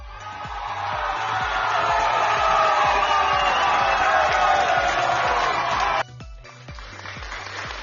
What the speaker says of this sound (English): let's give a round of applause to any armed forces out there